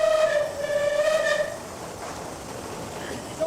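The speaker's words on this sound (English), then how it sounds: "Blow the whistle as we're going into the tunnel." Steam whistle from the Southern Railway locomotive Clan Line, sounding a sustained harmonic chord for about a second and a half as the train enters a tunnel near Dover Priory, then trailing off into rumbling train noise.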